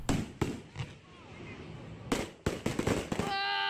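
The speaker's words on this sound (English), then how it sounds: "Firework fails." Fireworks go off in a series of sharp bangs and crackling pops, some in quick clusters. The bursts are followed by a rising whistle, and voices are audible amid the blasts.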